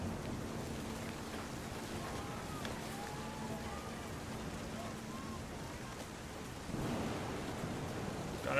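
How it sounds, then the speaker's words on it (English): Low rumbling thunder rolls under steady rain noise in the video game What Remains of Edith Finch, a swelling boom near the end over constant stormy hiss. "The thunder sounded much too close and full of angry power."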